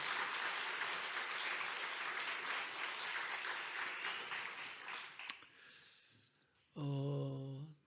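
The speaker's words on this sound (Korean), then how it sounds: "우리 하나님께 감사와 영광의 박수." Church congregation at a revival meeting in Ulsan gives a long burst of dense, steady applause. It fades into a brief lull before a voice begins speaking.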